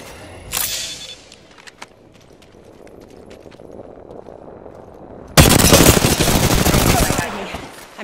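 Bursts of rapid gunfire from a shooter video game, a short volley early on, then a loud sustained burst of automatic fire over the last few seconds.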